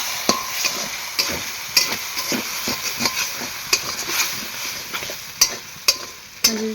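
Pasta sauce sizzles in a pan while being stirred, with a soft frying hiss and a run of irregular scraping and clinking utensil strokes, close and with no talk.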